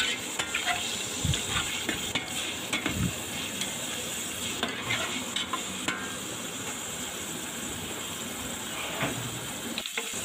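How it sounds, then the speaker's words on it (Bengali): Two cups of chopped onion frying in regular cooking oil hiss and sizzle steadily up close, with occasional stirring scrapes and a soft clunk near the end. "2 কাপের মতো রান্নার রেগুলার তেল দিয়ে দিলাম। আর এখানে আমি 2 কাপ পেঁয়াজ কুচি নিয়ে নিলাম।"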